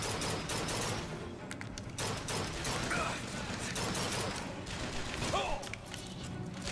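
Shotgun blasts in BioShock Infinite, dense bursts of gunfire and mechanical clatter over constant game noise, loud and close, with faint voices in the background.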